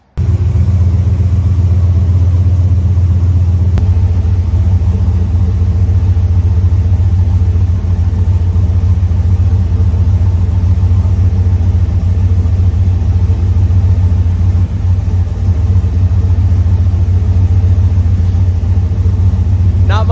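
Vehicle engine fired up after an oil leak, a loud steady low rumble idling close for the full stretch, with no pause and no change in pitch.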